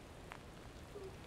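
Rain falls outdoors as a faint, steady hiss with a few scattered drop ticks, quiet and continuous throughout with no talking.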